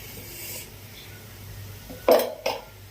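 Fresh Bombay duck fish is tossed with chili in a metal dish, with a faint rubbing stir under a quiet background, then two louder clinks and scrapes of utensil against the dish near the end.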